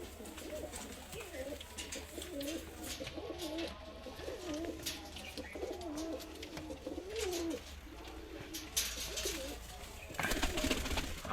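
Punjabi Malwai pigeons, red and blue birds kept in a loft, coo in repeated soft, rolling phrases close by, with faint background noise and a few rustles near the end.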